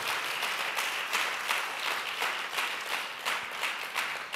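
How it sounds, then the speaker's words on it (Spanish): A church congregation applauds during a Spanish-language sermon, with brisk, fairly even clapping heard at moderate distance across the room, no voices on top. "Denle un fuerte aplauso."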